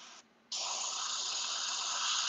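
Iwata Eclipse airbrush spraying paint under air pressure: a short hiss cuts off briefly, then a steady, close, loud hiss runs continuously to the end, with no voices.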